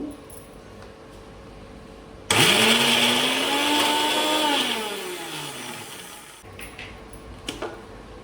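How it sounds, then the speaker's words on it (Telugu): A small mixer jar grinds ridge gourd peel chutney, a loud whirring motor running steadily for about four seconds, its pitch rising then slowly sagging before it cuts off to kitchen quiet. "చిన్న జార్లో అయితేనే మెత్తగా నలుగుతుందని దీంట్లో వేసాను"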